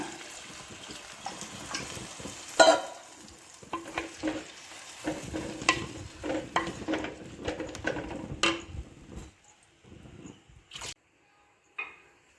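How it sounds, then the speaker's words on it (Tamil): Brinjal and quail pieces fry in oil in a pan, giving a soft sizzle broken by intermittent stirring and scraping, close and moderately loud, with no voices. "இதை நல்லா எண்ணெயில் ஃப்ரை பண்ண பிறகு கொஞ்சம் வாட்டர் சேர்த்துக்குங்க."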